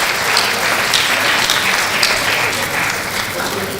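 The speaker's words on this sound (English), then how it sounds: "You can see the applaud because we can remember what you did" Sustained audience applause fills a valedictory lecture hall, with dense steady clapping throughout and a few faint voices underneath.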